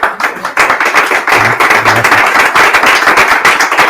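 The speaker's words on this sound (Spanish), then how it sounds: "el aplauso es mutuo." Audience applause at a church gathering in Madrid, loud and close, starting with a few scattered claps before swelling into dense, sustained clapping that holds to the end.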